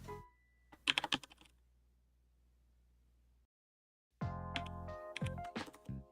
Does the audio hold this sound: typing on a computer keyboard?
yes